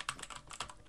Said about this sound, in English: Are you ready for some immense typing?